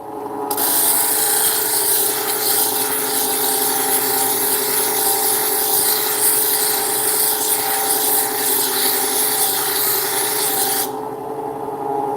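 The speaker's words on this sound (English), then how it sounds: "So I am taking this rock and polishing it. Well, shaping it right now and eventually polishing it." Rock being ground and shaped into a cabochon on a lapidary wheel, a loud continuous whirring grind with a steady hum, holding evenly for about ten seconds before cutting off, no talking.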